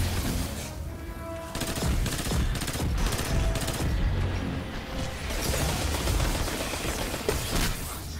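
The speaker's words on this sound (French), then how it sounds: "Il y a des moments c'est des tout petites rafales, il y a des moments c'est des rafales super longues" Enemy boss gunfire in the Destiny 2 video game, loud bursts of rapid automatic fire mixed with explosions and game effects, some short and some long, with no pauses between them.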